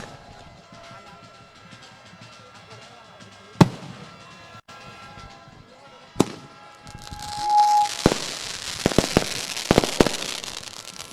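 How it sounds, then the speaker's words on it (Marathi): Fireworks burst at a night cricket tournament celebration, with sharp isolated bangs early on, then a dense stretch of crackling and rapid loud pops, heard from nearby. "फटाक्यांच्या कडकडाट यावेळेला आपण पाहू शकतायत"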